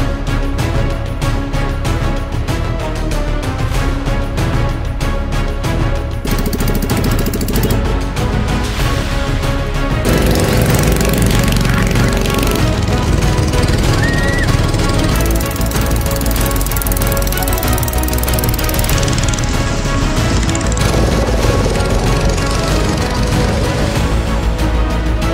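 Homemade vehicles built around a trash bin race in a loud, continuous rattling engine drone that keeps going through the whole stretch with small shifts in intensity. No one speaks.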